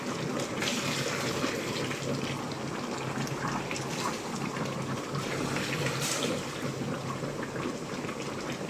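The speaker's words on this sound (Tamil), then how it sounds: "நான் தண்ணி சுடு தண்ணி தான் சேர்க்குறேன்." Hot water pours into a cooking pot for basmati rice, a steady splashing rush that holds for several seconds at close range with no talking.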